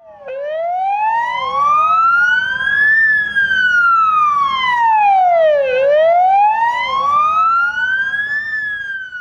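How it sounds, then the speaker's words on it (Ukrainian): Ambulance sirens wail during a funeral procession to a cemetery, a loud, close, rising-and-falling tone in long sweeps with overlapping vehicles, under a faint low rumble of traffic. "працівники швидкої востаннє вімкнули для нього сирени автівок"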